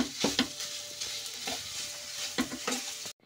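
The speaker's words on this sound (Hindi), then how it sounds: "ये कढ़ाई में ही ऐसे ही गरम हो जाएगा खोया हमारा" Khoya stirred in a hot kadhai with the gas off gives a soft continuous scraping and faint sizzle, with repeated spoon strokes against the pan.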